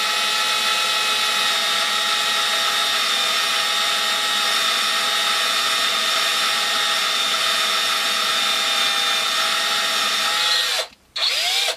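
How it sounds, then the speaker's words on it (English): A hand-held power drill bores through wood during DIY dowel making, its steady high whine running loud and unbroken for about eleven seconds before cutting out abruptly near the end. "I have drilled quite a few holes with this drill"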